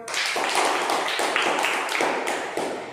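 Children in a classroom clapping their hands together in a quick, uneven round of claps, fairly close and lively, with no talk over it.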